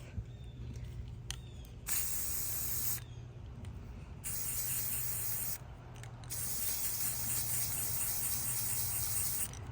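Spray paint hissing from an aerosol can onto a glitter tumbler, in three long steady bursts separated by short pauses, close and fairly loud with no talking.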